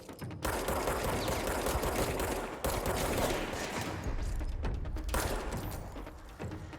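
Gunfire in the video game Control: sustained rapid bursts of shots, loud and close, with brief gaps between volleys and a final trailing burst.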